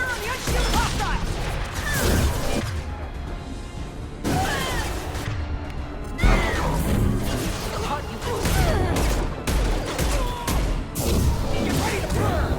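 Dense gunfire and impacts during a firefight in the Xbox 360 game Mass Effect 2, loud and continuous across the whole stretch with bursts and crashes layered together and a voice talking over the battle.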